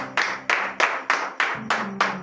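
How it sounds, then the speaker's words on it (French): Congregation at a Beninese Monday morning prayer service clapping hands in a steady, evenly spaced rhythm, about seven loud, close claps over a faint sustained low tone, with no talking. "je vous demande d'applaudir très très pour notre Dieu ce matin"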